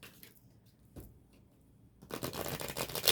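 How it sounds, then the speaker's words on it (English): Tarot cards are shuffled by hand for a private reading, a quiet riffle near one second and then a dense, louder run of rapid papery flicks through the last second. "Let me shuffle it one more time since it was stuck."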